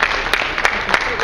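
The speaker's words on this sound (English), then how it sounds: "if we could have a round of applause for these members" Applause from a county board meeting audience honoring departing board members, a steady wash of clapping with a few sharper claps standing out, sustained through the moment at moderate loudness.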